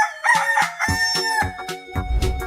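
A rooster crows in an animal slide video game, a loud, clear cock-a-doodle-doo with clucky bursts, heard close and alone.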